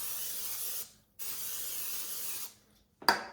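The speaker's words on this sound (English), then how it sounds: "it's time to spray it with some Pam so it doesn't stick" Two bursts of aerosol cooking spray hiss onto a hot waffle iron, one long and one shorter after a pause, followed by a faint click.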